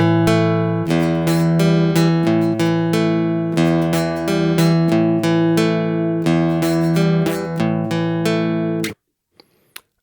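Guitar played through an MPC X with customized EQ rings out in sustained, steady chords and notes for about nine seconds, full and loud, then cuts to near silence with a couple of faint clicks.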